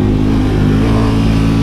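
KTM Super Duke 1290 R motorcycle engine revving hard: a loud, close, continuous roar with a rising and holding pitch, alone with no voices.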